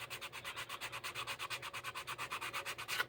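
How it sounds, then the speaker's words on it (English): Sanding with 200 to 220 grit paper on a foam-backed block during a long pacer build: a steady back-and-forth rasp of about twenty even strokes, close and moderately loud, with no talk. "this 200 grit or 220 grit is sawing into our stuff"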